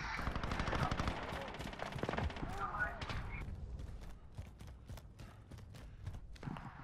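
Rapid bursts of gunfire from the Call of Duty Modern Warfare video game crackle through a busy firefight, with overlapping shots and clattering effects under in-game voice callouts.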